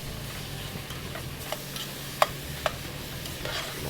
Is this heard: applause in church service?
no